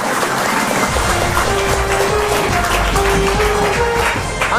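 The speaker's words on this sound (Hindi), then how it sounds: "एक जोरदार ताली होनी चाहिए" Loud, dense applause from a school audience fills the room for a student quiz contestant who has just answered correctly, continuous clapping throughout.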